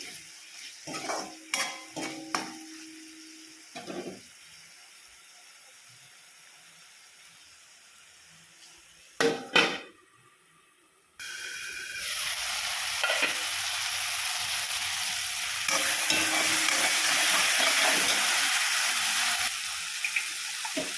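A few clatters and knocks, then a steady loud sizzle of ginger, garlic and green chilli paste frying in a hot pan that continues to the end.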